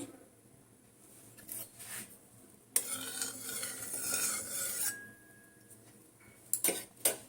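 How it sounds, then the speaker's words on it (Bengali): Meat being mixed by hand for mughlai paratha in a home kitchen, with soft squelching and stirring sounds, a louder burst of mixing in the middle, and a few sharp clinks of utensils near the end. "এই দেখো এখানে মাংসটা আছে, মাখিয়ে নিচ্ছি আমি"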